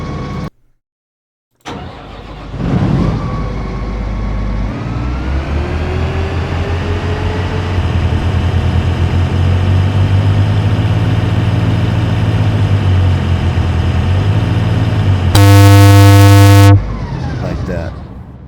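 A custom engine idle loop from Farming Simulator 25 starts up and settles into a steady, loud mechanical hum with a rising drone, ending in a harsh buzzing burst, after a brief silence at the start.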